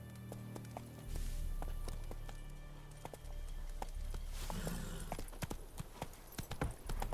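Horse hooves trotting in The Witcher 3 on a game soundtrack, a steady clip-clop rhythm of sharp taps heard up close over low ambient music and rumble, with an occasional faint whinny.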